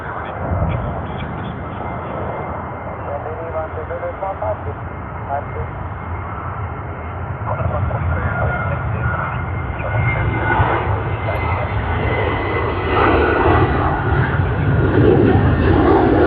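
A Cathay Pacific Airbus A350-900 landing at Sydney Airport, a broad engine roar and rumble heard from outside that gradually swells louder over about sixteen seconds.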